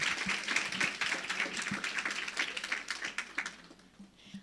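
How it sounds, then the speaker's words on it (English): A conference audience applauds a newly introduced doctor at an Africa-focused event, the clapping from many hands fairly close and thinning toward the end, with a few sharper individual claps. "Give him another round of applause."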